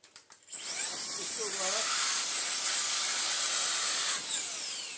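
Shark Wandvac 2-in-1 1.0 handheld vacuum (WV361 UK) starts after a few clicks and runs with a loud, steady high-pitched motor whine and airflow hiss for several seconds, with a slight wavering tone midway, then begins to wind down.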